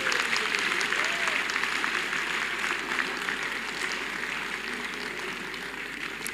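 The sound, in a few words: audience clapping in a hall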